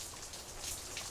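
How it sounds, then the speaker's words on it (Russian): Steady patter of rain falling on a surface, a dense hiss of droplets at a soft, even level with no voices. "Как капает дождик"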